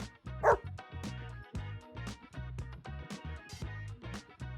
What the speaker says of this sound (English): Little poodle.